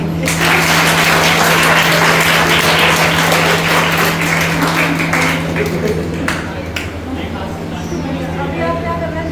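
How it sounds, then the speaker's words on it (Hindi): Classroom group in a workshop applauding together, a dense wash of clapping that fills the room and tapers off toward the end, with a steady electrical hum underneath. "एक बार अपने लिए सब ताली बजा लेंगे।"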